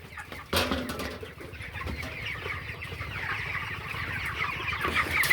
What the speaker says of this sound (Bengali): আর এখন ছোট একটা মুরগি ধরবো।